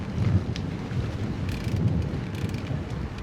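Wind buffets the microphone during a bike ride on a breezy day with a headwind, a loud, continuous rumbling roar that swells and eases, with no talk.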